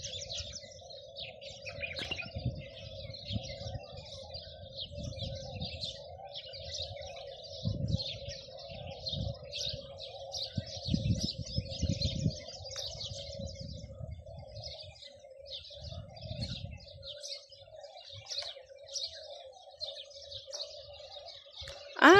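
Birds chirp and tweet steadily at a lake with flamingos, swans and ducks, with soft cooing in the background and occasional low rumbles, outdoors without talk.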